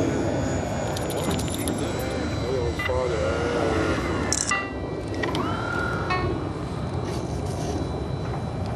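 A scale F-105 Thunderchief RC pusher jet comes in to land at the Ace In The Hole event in Las Vegas in 2009. Its thin, steady turbine-like whine sits faintly under crowd chatter and the murmur of the field.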